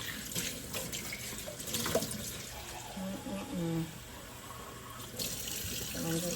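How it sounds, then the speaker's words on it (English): Running water from a kitchen sink tap while baby bottles are washed, a faint steady stream with clinks of bottles and brief splashes, fairly distant and quiet. "I'm just gonna wash my baby's bottles and go ahead and start and clear up my kitchen."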